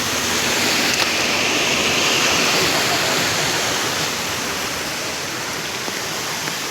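Water gushes continuously from the stone spouts at Chitlang, Nepal, a loud, dense, unbroken rushing wash heard up close with no voices.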